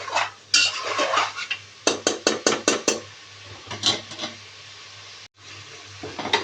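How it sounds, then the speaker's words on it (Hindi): Mutton curry masala being fried with ginger and garlic in a pan: a run of sharp, close metal clatters of a utensil stirring and scraping against the pan, with a soft sizzle underneath. "इधर मुझे इसको अच्छी तरह अदरक लहसुन के साथ भूनते हुए 2 से 3 मिनट हो चुके हैं"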